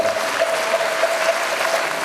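Audience applause at a Buddhist precepts ceremony in a temple, a steady, even wash of many hands clapping with no talk over it.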